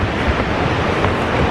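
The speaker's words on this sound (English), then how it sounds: "Two very cool waterfalls." Two waterfalls at a quiet campsite stop on an SUV camping trip, giving a steady, loud, broadband rush of falling water with wind buffeting the microphone, continuous and close with no voices.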